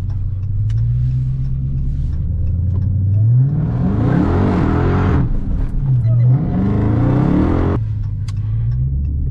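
Dodge Hellcat Charger fitted with a Direct Connection stage kit accelerates hard twice, its loud supercharged engine climbing in pitch through gear shifts between idle rumbles.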